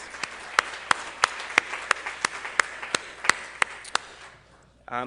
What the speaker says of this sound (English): So, round of applause for Justin, please.